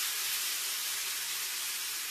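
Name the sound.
broccoli sizzling in frying oil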